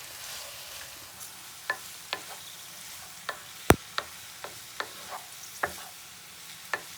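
Boiled rice stirred in a frying pan with cauliflower or broccoli, green beans and peas for pineapple fried rice with prawns: a faint sizzle underlies scattered spatula scrapes and taps, one sharp clack standing out, no talking.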